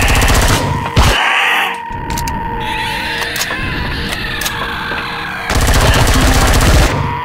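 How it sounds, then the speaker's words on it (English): Rapid automatic fire from an SMG in the space survival game Empyrion Galactic Survival, loud sustained bursts nearly filling the whole stretch, with a short gap in the middle before the firing picks back up. "Give me the SMG."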